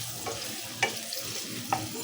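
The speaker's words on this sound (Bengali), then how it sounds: "দিয়ে দিলাম পেঁয়াজ কুচি, দিয়ে দিচ্ছি রসুন কুচি।" Chopped onion and garlic frying in oil for a papaya and lentil vegetable dish, a steady soft sizzle with a few sharper stirring scrapes standing out.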